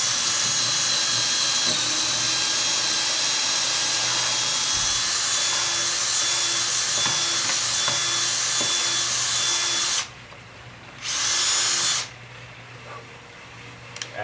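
A power drill runs long and steady, boring holes for a surface-mount lock install, then stops, briefly revs again for a second burst and falls quiet amid faint handling noises.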